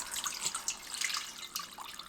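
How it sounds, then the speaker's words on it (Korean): Water pours and splashes over dried kelp in a bowl, a continuous close trickling with small bright drips and no voices. "다시마에 물 붓고 20분 불립니다."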